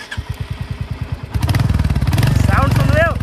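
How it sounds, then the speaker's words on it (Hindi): A Royal Enfield motorcycle engine starts from a slow, evenly spaced cranking chug into a steady, loud thumping idle, close up, with a person talking over the running engine. "ये देखो मैं इंजन ऑन करता हूँ"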